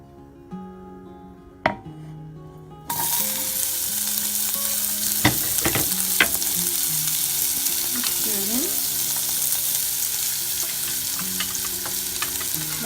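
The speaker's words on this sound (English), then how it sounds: "So let me put the onions in here." Chopped onions sizzle in a small amount of bacon grease in a pan at home, a steady close crackle that starts abruptly and runs on, with sharp clacks of utensils and faint background tones.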